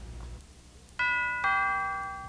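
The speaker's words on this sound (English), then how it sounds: "There's an invisible doorbell, but no door." A two-tone doorbell chime rings out clearly, a bright higher note followed by a lower one that lingers and fades over a quiet room hum.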